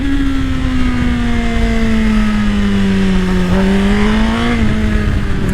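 Suzuki GSX-R 1000 sport motorcycle accelerating hard through a wheelie on a straight mountain road, a loud, steady, high-pitched engine howl with a slight dip and rise in pitch, heard up close and alone.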